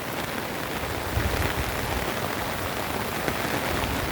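Typhoon rain falls steadily and fairly loudly beside a flooding river, a continuous close hiss with a few slightly stronger bursts of drops.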